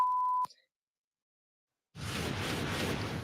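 A single steady electronic censor beep, loud and flat, cutting off abruptly, then silence before a burst of broad noise.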